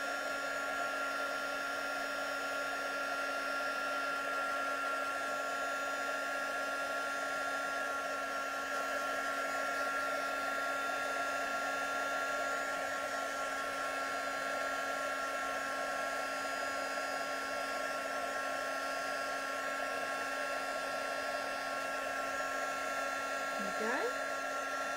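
An embossing heat tool blows hot air over embossing powder on stamped card for an emboss resist technique, giving a steady, close whirring roar with a high whine that runs without a break for the whole stretch.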